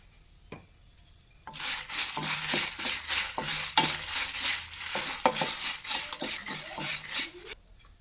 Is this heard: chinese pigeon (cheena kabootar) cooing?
no